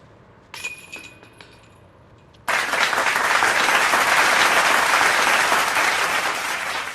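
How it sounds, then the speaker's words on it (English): After a few soft clinks and thuds, a burst of crowd applause breaks out abruptly and holds steady and full for several seconds, dense, continuous and fairly close, following a birdie on a disc golf course. "you guys hear all that applause?"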